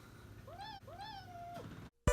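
Two distinct kitten meows ring out close and clear, the second drawn out longer, followed by a brief silence and a sudden loud noise at the end.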